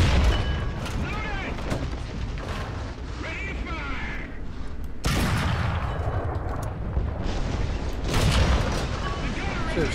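A Panzer IV C tank's 37 mm cannon firing in War Thunder, heavy booms amid continuous battle noise while a voice talks over the roar.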